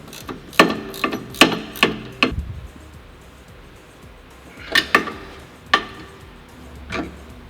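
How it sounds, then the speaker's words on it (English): A ratchet wrench tightening a big 19mm nut on the rear sway bar of a Lexus ISF: sharp, close metallic clicks in two short bursts with a quiet pause between. "we're going to tighten this big 19mm nut up."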